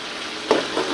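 Koi fish sautéing in a pan, a steady close sizzle with a brief stirring scrape midway.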